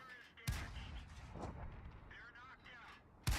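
Tank cannon shots in the World of Tanks video game, two sharp booming blasts at the start and end with rumbling battle ambience and faint game effects between them.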